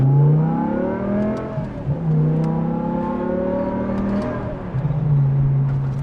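A BMW E63 M6 engine revs repeatedly through throaty Valvetronic Designs universal mufflers, its pitch rising and falling in several swells, loud and close.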